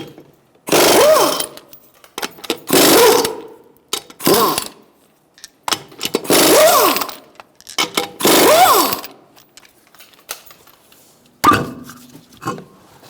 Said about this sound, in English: Using a 21mm socket, I'm going to take off the front wheel